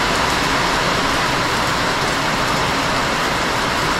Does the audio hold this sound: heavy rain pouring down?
yes